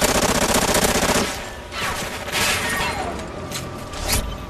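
Bursts of automatic gunfire in Call of Duty: Ghosts, loud and dense for the first second, then thinner scattered shots and game effects continuing at a lower level.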